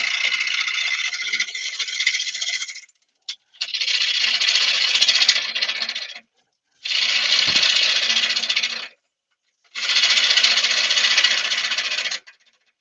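A bowl gouge cuts into a wooden bowl blank on a lathe in four bursts, each lasting about two to three seconds with short pauses between, giving a steady, close, hissing scrape.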